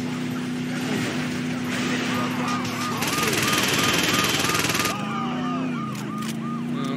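A helicopter roars throughout a Saints Row 2 game scene, heard as a steady loud rotor drone. A wailing police siren and other game noise play over it, and voices talk under the chaos.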